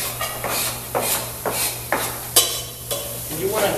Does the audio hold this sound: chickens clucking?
no